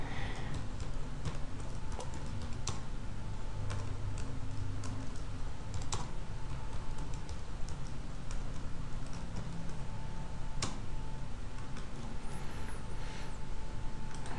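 Steady typing on a computer keyboard as an address is entered into a savings-and-loan cooperative member form, dense clicking keystrokes continuing throughout over a low background hum, no speech.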